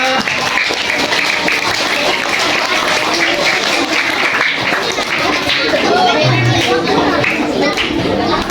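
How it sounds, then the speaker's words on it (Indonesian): Applause and clapping from an audience at a Ramadan Islamic school event for young pupils, steady and dense throughout with crowd chatter and children's voices mixed in. "tepuk tangan dulu buat adik-adik semuanya"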